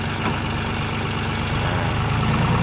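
A John Deere 5040D 40-horsepower tractor engine idles steadily in a field, a continuous close, loud diesel rumble with a knocking undertone and no voices.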